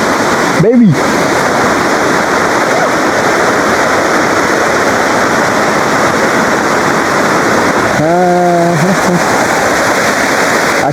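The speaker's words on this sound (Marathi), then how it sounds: "असे खूप छोटे मोठे धबधबे." Small waterfalls at Tamhini Ghat give off a loud, continuous rushing roar that fills the whole stretch, with two brief voice snippets rising over it.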